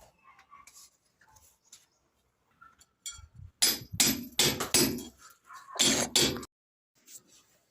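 Nails are hammered into a house wall to fix wiring boxes, a few faint taps at first, then a cluster of loud, close, sharp blows with short gaps between them.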